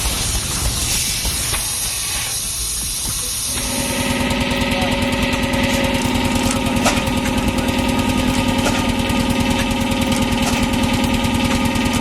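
An early 20th-century Bessemer 50 HP stationary gas engine running steadily, a loud, continuous mechanical drone with rapid rhythmic knocking and hissing that grows denser after a few seconds.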